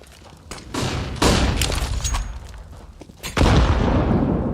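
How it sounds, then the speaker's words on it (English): Sharp booming blasts land in a Counter-Strike professional match, with grenade explosions and gunfire bursts ringing out amid the game's background noise and two heavy detonations standing out loud. "Deep nade towards the base of Catwalk. There's a little bit of chip damage."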